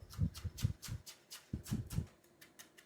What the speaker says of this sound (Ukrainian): Дивіться, дуже також дрібно нарізаємо.